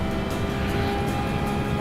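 In a racing game, a Porsche 996 holds flat out in fifth gear on the Nordschleife, giving a loud, steady engine drone with a sustained high tone and no breaks.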